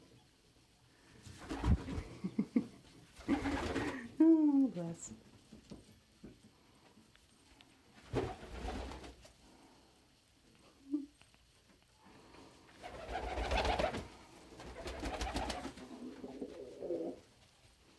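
Pigeons coo and flutter in bursts with pauses between, and a voice speaks briefly among the soft calls.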